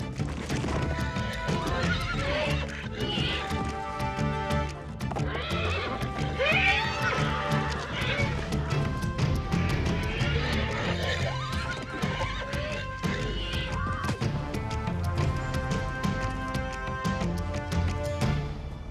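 Wild mustang bachelor stallions neigh and squeal repeatedly while play fighting amid hoof clatter, a busy, energetic scuffle with music-like tonal layers running throughout.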